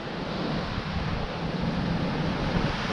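Wind blows steadily across the Bristol Channel shoreline, a constant broadband roar buffeting the microphone, with the wash of the sea blended underneath.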